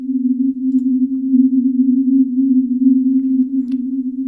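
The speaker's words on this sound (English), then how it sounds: "And to emphasize this, we can also use some reverb. Delay and reverb always goes nice together." A steady synth pad built from a sine in Massive, treated with delay and reverb, holds one sustained low tone with a gentle wobble, loud and alone without any talk.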